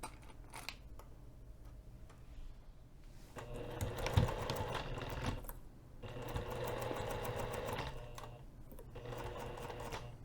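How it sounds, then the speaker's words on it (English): A sewing machine with a zipper foot stitches a pinned top edge of a hinged zipper pocket in bursts, its rapid mechanical whir starting and stopping a few times with brief pauses between runs. "put your zipper foot on your sewing machine, and we're going to be stitching this top pinned edge"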